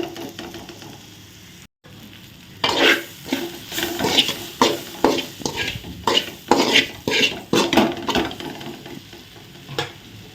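Eggplant masala with turmeric being sautéed in a pan over low heat, with a steady sizzle and a series of scraping, clinking stirs from a utensil against the pan, close and fairly loud, with no talking.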